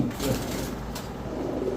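Pigeons cooing at a busy pigeon market, a soft repeated low coo close by over a steady murmur of crowd noise.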